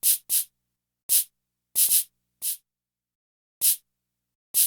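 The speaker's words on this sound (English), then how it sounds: "So the shaker pattern sounds like this." Spaced-out shaker pattern in a 2000s-style hip-hop beat: short, bright, hissy shakes in an irregular, sparse rhythm, some hits paired closely, others set apart, quiet and isolated with silence between.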